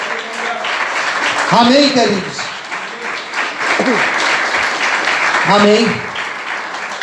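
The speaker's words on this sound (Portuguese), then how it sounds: "Você pode glorificar e aplaudir o Senhor essa noite" Church audience applause in a Portuguese-language service, clapping steady and fairly close throughout, with a preacher's voice and calls from the congregation rising over it.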